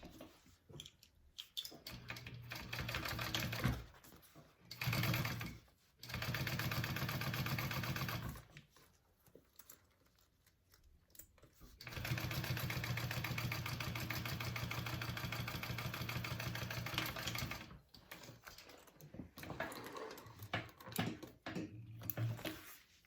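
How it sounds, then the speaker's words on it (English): A sewing machine runs in long steady bursts while top stitching the flat lining of a bucket bag, with short pauses between stitching runs and small handling clicks, no talking. "I'm just going to top stitch with my lining flat out."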